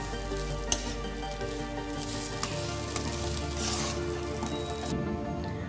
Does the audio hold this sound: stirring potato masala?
yes